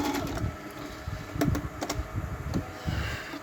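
A Janome N572 mini sewing machine runs a triple stitch close up, its motor humming under quick rattling needle clicks in short uneven bursts.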